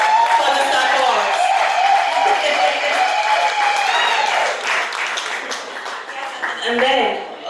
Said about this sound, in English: another round of applause for him, for the support.